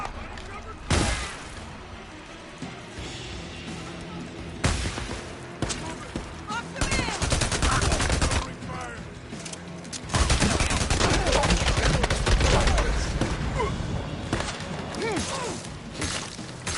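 Gunfire in Days Gone is heard as repeated loud shots and rapid bursts, some with a shattering crack, over a busy game soundscape with someone speaking now and then.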